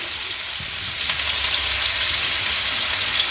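Keema frying in a pan until golden, a steady hissing sizzle that grows slightly louder after the first second and holds, close and continuous with no talking.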